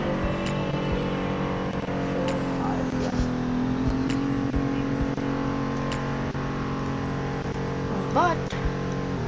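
Small car engine in the Roblox Greenville driving game, holding a steady high-pitched drone at about 131 mph in eighth gear, continuous and loud, with someone talking over it.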